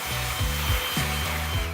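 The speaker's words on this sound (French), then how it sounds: "Hyper léger et maniable, il n'y a rien de plus simple que le souffleur." A lightweight, easy-handling leaf blower clears a garden path, a steady close engine drone with its pitch swelling and dropping in repeated sweeps about every half second, no one talking.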